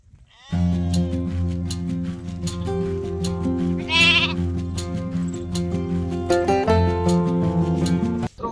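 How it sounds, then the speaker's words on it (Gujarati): A lamb bleats near a herders' camp in the Gir region, giving a long run of loud, close, quavering bleats that rise and wobble with hardly a break, then stops abruptly at the end. "આ છે એક ઘેટીનું બચ્ચું"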